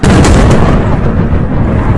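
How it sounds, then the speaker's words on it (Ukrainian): Massive explosions tear through during an attack on a landing ship in port, a loud, continuous roaring blast with rumbling booms and crackle filling the whole moment, close and overwhelming. "Вибухи надпотужні."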